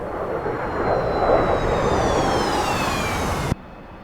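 T-45C Goshawk jet in the DCS flight simulator, its engine giving a steady whine with high tones sliding downward over a broad rushing roar, close and constant, ending in a sudden cut to quieter hum.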